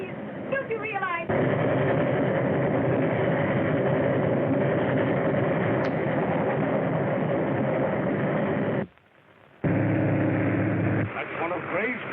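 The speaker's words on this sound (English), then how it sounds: "That's one of Gray's transport trains." A transport train runs steadily with a loud, continuous rumble and rattle of wagons on the rails, briefly cutting out near the end before resuming, with voices heard at the edges.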